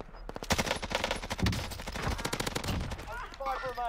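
Rapid gunfire in the Warzone battle royale game, dense bursts of automatic shots cracking in quick succession across the whole moment, fairly close, with a few scattered distant shots and game sounds near the end.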